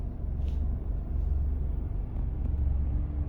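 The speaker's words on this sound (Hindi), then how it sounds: "गाड़ी चल पड़ी है भाई।" A car rolling off slowly in first gear with the handbrake released, a low steady engine and road rumble heard from inside the cabin, with no talk.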